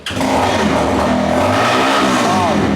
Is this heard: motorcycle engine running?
yes